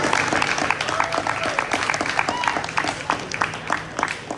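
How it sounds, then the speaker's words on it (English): A crowd applauds steadily at a high school FBLA end-of-year ceremony, with dense clapping throughout and a voice faintly speaking over it. "Let's give a big round of applause to our outgoing VP, Snake."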